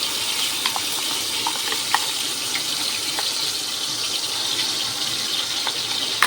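Whole spices and onion paste fry in a pan with a steady, bright sizzle, broken by a few faint clicks of utensils, close and continuous with no talking.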